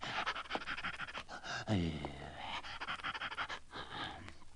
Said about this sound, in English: he saw an old hound lying in the road, gasping and panting